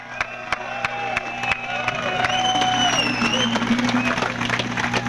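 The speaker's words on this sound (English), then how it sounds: "you should give them a big round of applause" Crowd at the Woodstock 1999 festival on Yasgur's Farm in Bethel, New York, breaking into spreading applause and cheering that swells over a few seconds, heard at a distance over a steady hum.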